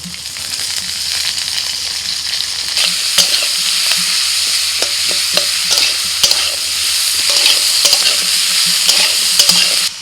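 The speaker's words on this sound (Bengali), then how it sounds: "আলুটা একটু নাড়াচাড়া করে ভেজে নিয়ে এবার আমি এই পেঁয়াজ বলি কুচনো পেঁয়াজ দিয়ে দিচ্ছি" Potatoes and chopped onion fry in mustard oil with dried chilli, a constant crackling sizzle broken by frequent spatula scrapes and taps as the pan is stirred, close and loud; no voices.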